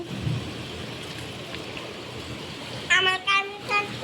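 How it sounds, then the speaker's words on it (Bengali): Heavy rain pours down in a steady, even hiss, close by and continuous, and a voice speaks briefly near the end. "অনেক জোরে বৃষ্টি এসেছে"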